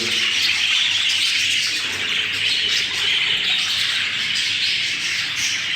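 Pet birds in a breeding room squawk and chirp continuously, a dense overlapping chorus of shrill calls that stays loud and steady throughout with no talking.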